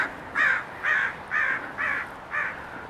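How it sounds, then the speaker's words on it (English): An agitated crow caws five times in a steady, evenly spaced series, each call harsh and fairly loud against a quiet outdoor background. "We have an angry crow here"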